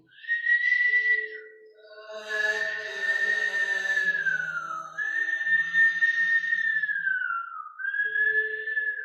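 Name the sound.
whistle breath in a yoga class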